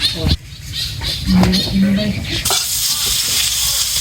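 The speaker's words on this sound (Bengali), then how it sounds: "মাছ ভাজি শেষ করে এখন কাঁকরোল বাঁচতেছি কাঁকরোলের বড়া" Teasel gourd (kakrol) fritters sizzle and crackle in hot oil, frying loudly and close, with stirring noises and someone talking over the cooking.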